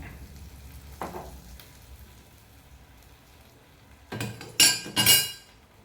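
Bread laid on a hot pan for a tofu sandwich: a faint bump, then a quiet lull, then bursts of loud, bright sizzling close by, with no talk.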